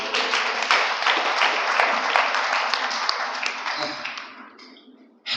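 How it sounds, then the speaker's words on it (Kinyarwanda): Congregation applauding during a church service, a dense sustained wash of clapping that holds steady for about four seconds, then thins and fades, with a brief burst at the very end. "Komera Imana amashyi"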